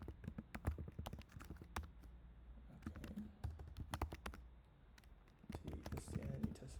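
Rapid clicks of someone typing an email address on a computer keyboard in webmail, irregular bursts of keystrokes close up, with a pause midway before typing picks up again.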